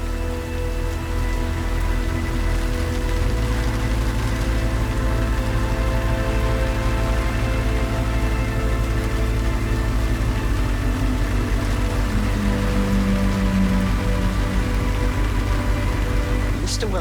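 Muffled rain falling steadily in the video game Cyberpunk 2077, a continuous dull patter under a low droning music bed, unbroken for the whole stretch.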